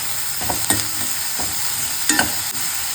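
Cabbage fry being stirred in a pan, a spoon scraping and turning the shreds in short separate strokes over a steady soft hiss of frying, fairly close and with no voices.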